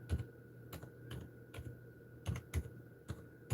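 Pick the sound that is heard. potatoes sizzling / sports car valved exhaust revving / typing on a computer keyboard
typing on a computer keyboard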